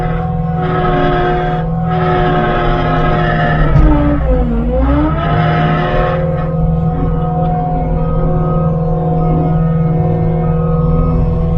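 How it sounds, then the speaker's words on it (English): A loader machine drives forward while raising its bucket, its engine droning loud and steady throughout, with the pitch dipping and rising briefly midway as the hydraulics work. "You just drive forward, raising the bucket up."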